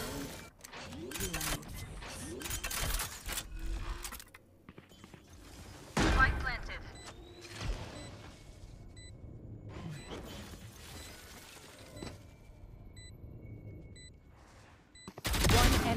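Bursts of gunfire in a tactical shooter game round, with sharp volleys at the start and again around six seconds, a closing burst at the end, and quieter game effects and occasional voices in between.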